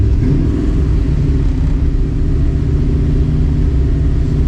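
An old Ford Mustang engine runs loud and close, holding a steady, raised idle with a deep, rumbling exhaust throughout and no change in pitch.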